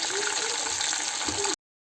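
Pieces of chicken sizzle in hot oil with a steady, bright frying hiss and faint bubbling, close and continuous before cutting off abruptly.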